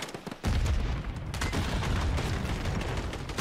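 Rapid automatic gunfire in Call of Duty on the Stash House map, a dense, loud, continuous barrage that erupts after a brief quieter moment and keeps going without pause.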